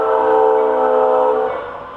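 A Florida East Coast Railway freight train, number 439, passes close by with a loud, sustained horn chord that holds steady, then fades as the train moves off.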